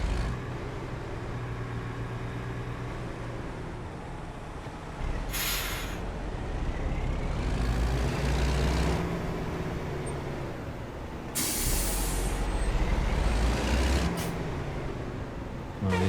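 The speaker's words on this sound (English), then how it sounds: "these guys are playing with the brakes here" Heavy-haul truck air brakes in American Truck Simulator release sharp, short hisses over a steady low diesel engine drone, with three bursts spaced apart.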